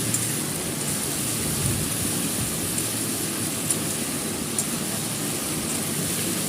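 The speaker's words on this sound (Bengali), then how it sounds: "এবার এগুলো মশলাগুলো দিয়ে ভালো করে একটু ভেজে নেব" Spices and green chillies fry in a pan with a steady, even sizzle, a dense hiss that carries on without pause and without talk.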